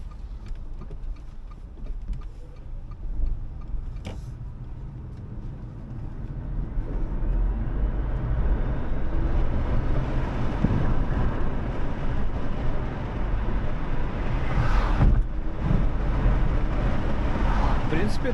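An Ora iQ5 electric crossover on a test drive gives a steady low rolling road and tire noise that grows louder as it speeds up, with a few brief bumps along the way.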